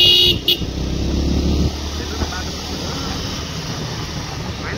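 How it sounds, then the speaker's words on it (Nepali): A vehicle horn gives short toots early on, on a mountain road between Dedgaun and Pokhara, Nepal, over a constant rumble of engine and road noise. "उताबाट नै आउँदैछ क्या हो, हर्न बजिरहेछ त।"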